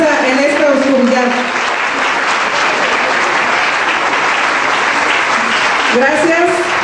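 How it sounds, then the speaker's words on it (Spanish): Loud, dense applause from a large audience at an award ceremony closing, sustained for several seconds, with a voice briefly audible over it near the start and again near the end. "Gracias por el aplauso."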